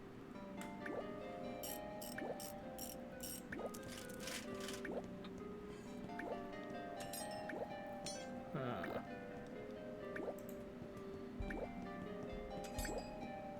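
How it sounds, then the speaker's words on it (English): Water drips steadily in the point-and-click video game The Little Acre, a pipe blocked at the top by a large bulbous plant, with repeated soft plinking drops over a quiet ambient game background. "So that's what's making the dripping sound."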